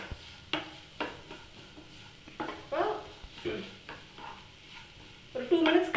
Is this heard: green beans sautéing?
yes